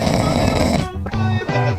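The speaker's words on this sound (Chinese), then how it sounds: "我家猫咪打呼的声音也很大" A pet cat snores loudly and close up, with a raspy, buzzing drawn-out breath followed by shorter rhythmic snorts.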